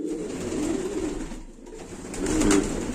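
Pigeons in a loft during the rainy season coo in low, rolling phrases, one near the start and another louder one toward the end, close by with no talking.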